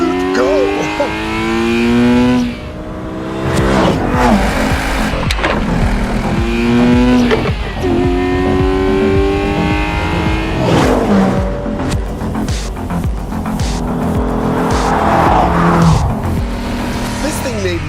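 Corvette race car accelerating hard with squealing tires, engine revving up repeatedly through gear changes, loud and close, with short tire squeals between pulls and a voice talking over parts of it.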